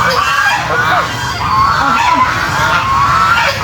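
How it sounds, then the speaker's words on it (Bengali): Loud, continuous quacking from a flock of ducks close by on an agro farm in Keraniganj, many calls overlapping without pause. "হাঁসের আওয়াজগুলো শুনতে পাচ্ছেন?"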